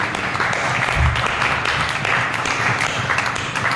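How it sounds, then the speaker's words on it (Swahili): A church congregation applauds the Reverend, a dense, continuous wash of many hands clapping in a large room, steady and fairly loud throughout. "Patia Reverend makofi anapokuja."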